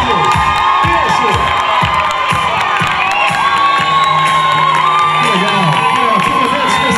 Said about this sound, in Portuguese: Vamos lá, vamos aplaudir.